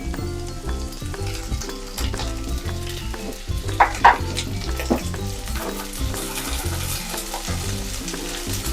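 Carrots, cauliflower and peas frying in a pan for a restaurant-style veg jalfrezi, a steady sizzle with stirring clatters and a few sharper scrapes midway, close and continuous with no talk.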